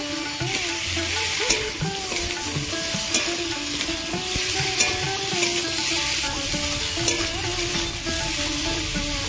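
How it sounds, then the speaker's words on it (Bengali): Eggplant pieces fry in a pan with onion and chilli, giving a steady, loud sizzle with occasional scrapes and stirring under it, no one talking. "পেঁয়াজ লঙ্কা ভালো করে আমি ভাজা করে নিয়েছি। বেগুনগুলো দিয়ে দেব।"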